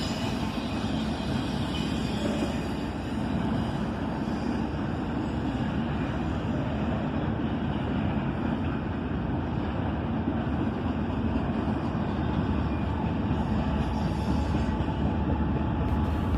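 A CSX ES44AC diesel locomotive switching cars on a local with a caboose: a continuous loud engine drone and rumbling wheels on rail, steady and close throughout.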